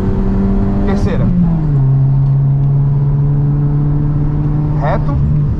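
A car at full throttle on a racetrack, a loud continuous engine drone that drops in pitch after a gear change and then holds steady, close by, with a brief louder burst near the end.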